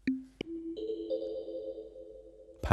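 Kalimba-like plucked tones in a sparse offbeat pattern, each note ringing out into a long, washy reverb tail, moderately quiet and alone without any talking.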